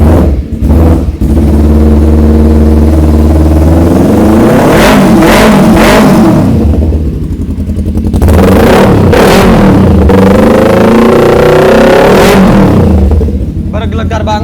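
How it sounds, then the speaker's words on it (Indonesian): A yellow Kawasaki Ninja 250 FI motorcycle engine revs loudly up close, several sharp throttle blips rising and falling over a rumbling idle, with someone talking at times. "Langsung saja akan ku cek sound untuk suara mesinnya ya bang"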